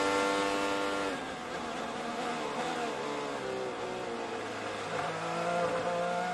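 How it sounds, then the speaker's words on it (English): An IndyCar race car brakes hard into a corner during practice at the 2024 Grand Prix of Monterey, heard onboard as a close, loud engine whose pitch steps down while the car slows, with no voices. "Let's ride on board and listen to the brake zone."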